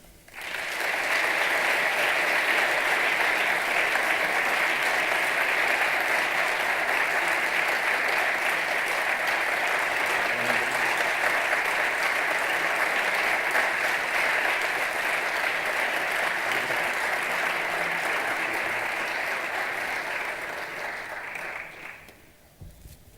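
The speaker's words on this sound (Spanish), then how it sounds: "Para todos ellos pido un aplauso." An audience applauds after a doctoral thesis presentation, with dense, sustained clapping for about twenty seconds before it tapers off and stops.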